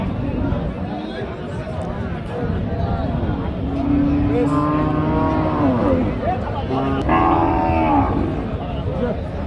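A red cow moos a few times at a cattle market among a noisy crowd, with people talking nearby throughout.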